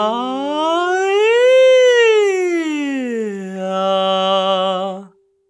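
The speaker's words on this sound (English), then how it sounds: "Let's try switching between chest and head voice with an ah to E siren like this." A contralto singer performs a vocal siren on an ah-to-E vowel, her voice gliding smoothly up from chest voice into head voice and back down, then holding a steady lower note, loud and close for about five seconds.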